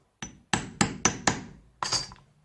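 Hammer strikes drive a punch through leather while making a coin wallet: one sharp blow, then four evenly spaced hard hits, then a final strike, each close and crisp with a short ring, no talking.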